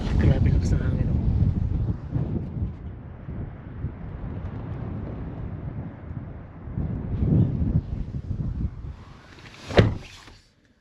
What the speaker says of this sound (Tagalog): Grabe lakas ng hangin o.